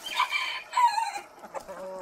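Chickens in a coop cluck and call close by, a few bright, strained vocalisations in quick succession, clear against quiet surroundings.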